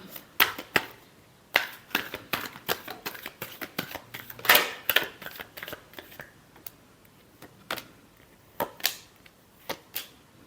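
Tarot cards are shuffled close up in a quiet room for a reading, giving a string of crisp, irregular riffles and snaps. The bursts come in quick clusters separated by short pauses.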